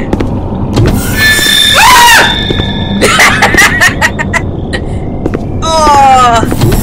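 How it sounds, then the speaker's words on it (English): A scream in the sci-fi horror video game Space Seclusion, a loud warbling shriek that swoops up and down around two seconds, followed by sharp clanks, metallic chirps and another falling screech near the end over a low ambient hum. "Oh, that scream."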